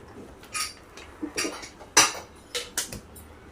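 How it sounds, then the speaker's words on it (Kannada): A spoon scrapes and clinks against a pot while mango kesari bath thickens on the stove, giving a handful of sharp metallic taps spaced irregularly, close and fairly loud. "ತಿರುಗಿಸ್ತಾ ಇರೋಣ, ಸ್ವಲ್ಪ ಗಟ್ಟಿ ಬರುತ್ತೆ."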